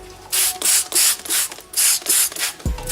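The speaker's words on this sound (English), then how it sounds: "here's the 1000 grit sandpaper right here" Headlight lens being hand-sanded with 1000 grit sandpaper: about seven brisk, rhythmic rasping strokes, close and fairly loud, with short pauses between them.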